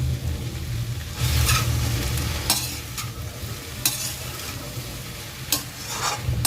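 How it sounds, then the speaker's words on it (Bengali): Steady sizzling and crackling of small-cut okra frying in a hot pan, with occasional scraping stirs and clanks throughout. "ঢেঁড়স 500 গ্রাম নিয়েছি আর ছোট সাইজ করে পিস করে রেখেছি, দিয়ে দিচ্ছি ভাজার জন্য"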